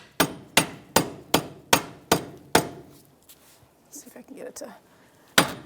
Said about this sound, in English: I'm just going to get my dead blow.